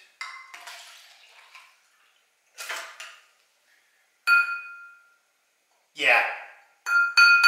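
Glass clinking and ringing as vinegar is poured from a glass into a Solo cup, several sharp chimes with sustained ringing tones separated by silence, and a brief spoken word between them.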